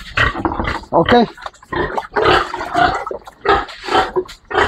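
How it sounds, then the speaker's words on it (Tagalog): Hungry piglets squeal and grunt loudly and close at feeding time on a farm, in bursts. Someone talks over them. "Pag baboy kasi gutom, pag di nabigyan ng pagkain, hindi yan mananahimik."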